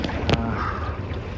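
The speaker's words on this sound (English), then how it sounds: "at the moment we're on eprop again, which feels like cheating" A sailboat cruises on its electric propeller motor under a steady wash of water and wind noise, with a brief louder knock partway through and no sails in use.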